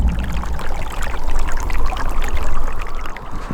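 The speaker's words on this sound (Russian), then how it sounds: "одно из самых удивительных явлений региона – вот такие никогда не замерзающие ручьи" A never-freezing stream in Yakutia rushes and gurgles nearby, a loud, steady splashing flow that swells slightly midway and goes on with no voices.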